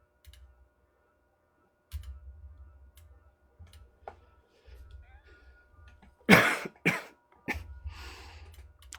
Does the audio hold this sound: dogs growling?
no